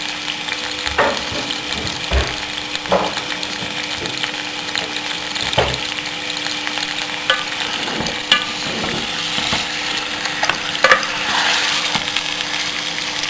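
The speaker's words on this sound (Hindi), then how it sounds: "इसमें ये गोश्त डाल के इसे हल्का सा फ्राई करेंगे" Meat fries in a pot for nihari, with a steady loud sizzle and occasional scrapes and clinks of stirring, and no talking.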